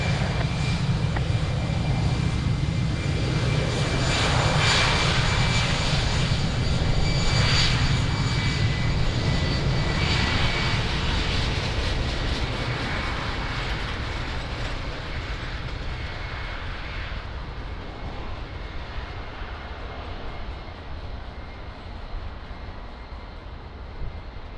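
Jet airliner taking off on runway 02 at Lisbon Airport, a loud broad engine roar that peaks early and then slowly fades as the aircraft climbs away into the distance.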